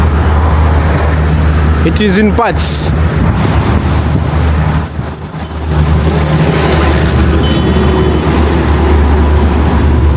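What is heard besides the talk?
Moscow summer traffic jam with trucks and buses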